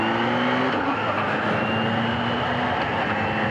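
A Kawasaki Z H2 motorcycle engine accelerates hard, with rising tonal engine lines over a dense, loud roar and wind, no voices.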